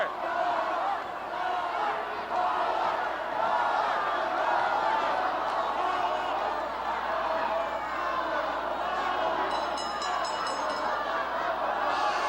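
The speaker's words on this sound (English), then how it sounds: "Listen to this crowd. The chant of Paula." A wrestling arena crowd at a 1984 WWF event keeps up a loud, dense roar with chanting for Paul Orndorff, steady throughout, with a faint high ringing near the end.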